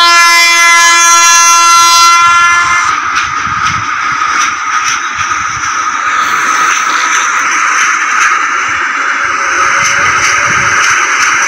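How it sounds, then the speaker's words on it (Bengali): A departing train on a curved line blasts a long, loud horn, then the horn cuts off and the clatter and rumble of rolling wheels and carriages take over, steady and close. "চলো আমাদের ট্রেন ছেড়ে দিচ্ছে এখান দিয়ে।"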